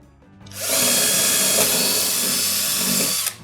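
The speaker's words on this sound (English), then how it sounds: "And then I'm going to drill the 5mm hole for the wiring." A power drill boring a 5mm hole for wiring on a model railway layout, spinning up and running loud and steady for about two and a half seconds before stopping.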